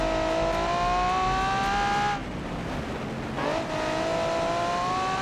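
A car engine in the racing and car-design game Automation revs high and steady with strong harmonic whine, briefly dropping off mid-clip as if shifting or lifting, then climbing back up, loud and alone.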